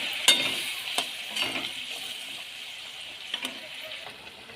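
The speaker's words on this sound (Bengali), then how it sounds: "এই মাছের ঝোলটা ফুটে গেছে" Pomfret fish curry simmers and bubbles in a pan with a soft continuous sizzle, punctuated by a few sharp clinks and stirring knocks close by.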